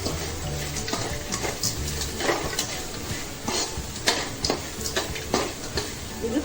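Grated coconut fries in coconut oil in a pan, a continuous close sizzle broken by the scrape and clink of stirring with a utensil.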